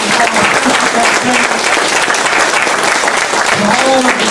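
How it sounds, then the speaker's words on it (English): Steady applause from an audience at a men's-only religious meeting of a study group in Savannah, dense continuous clapping filling the room with a few voices calling out over it. "Let's give our brother a round of applause."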